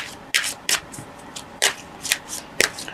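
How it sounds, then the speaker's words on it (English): Tarot cards being shuffled by hand, several quick riffling bursts of papery flutter and soft slaps, close and fairly loud, in irregular succession without speech. "Now I'd like to draw some clarification cards"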